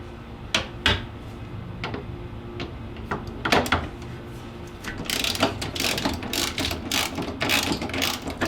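A ratchet works a 15 millimeter bolt and nut loose on a 1999-2004 Jeep Grand Cherokee WJ, with scattered clicks early that turn into a rapid run of close ratcheting near the end.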